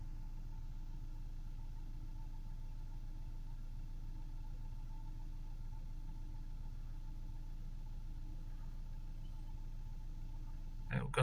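A Ford Transit van engine with a diesel particulate filter fault idles steadily after the accelerator is released, a low continuous rumble at even volume, with a brief clatter right at the end.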